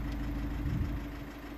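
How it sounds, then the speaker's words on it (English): An Audi A3 1.6 TDI diesel engine revs steadily, a continuous low engine drone rising slightly near the middle, heard close and alone with no talking. "It's revving absolutely fine."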